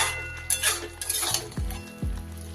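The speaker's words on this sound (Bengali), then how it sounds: "সবকিছু খুব ভালোভাবে মিশিয়ে আর একটু জল দিয়ে দেব আমি" A spoon stirs and mixes bottle gourd leaves in a pan, giving soft scraping and gentle sizzling with a few sharp metallic clinks and knocks against the pan, close and fairly quiet.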